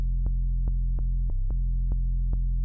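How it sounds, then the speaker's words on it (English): A low 808 bass drones continuously, sustained without fading, with faint clicks at each note change and a brief dip in pitch partway through. "Without the envelope, the 808 sounds like this."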